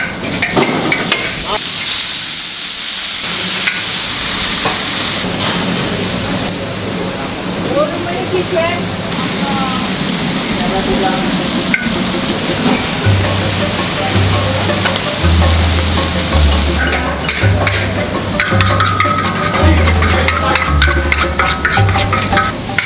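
Mee goreng mamak noodles sizzle and hiss loudly in a hot wok, a constant crackling spray close by, with a voice speaking over it and a low hum.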